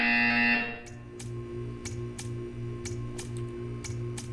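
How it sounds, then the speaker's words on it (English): A test-chamber buzzer in Portal 2 sounds as a low, steady buzz pulsing in regular beats, with sharp ticking clicks at each pulse, following a brief fading tone at the start. "You will hear a buzzer."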